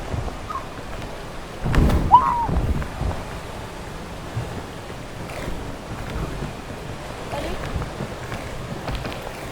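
Waterfall in a video game, a broad steady rushing roar of water that swells briefly louder, heard without talking.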